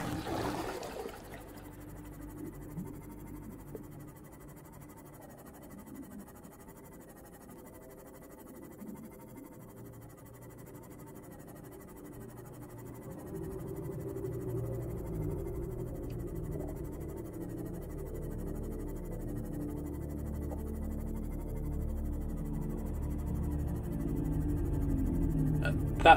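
Low, droning calls of reefback creatures in the underwater world of Subnautica, a video game, swell slowly beneath a steady rumbling hum and grow gradually louder toward the end, with no talking.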